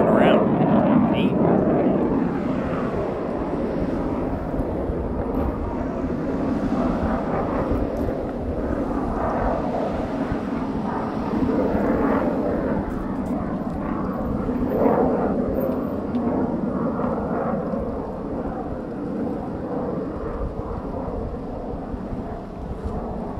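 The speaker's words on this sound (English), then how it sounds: "Plane is just miles away, and you can still hear it." A low, steady rumble of a far-off airplane droning continuously, with a voice talking over it now and then.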